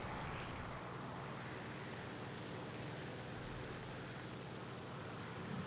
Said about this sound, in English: So I hear the P-38 coming in.